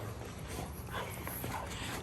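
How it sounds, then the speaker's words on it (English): Cane Corso puppies whimpering softly, faint thin whines over a muffled, noisy background, close by and continuous. "I got these 3 puppies."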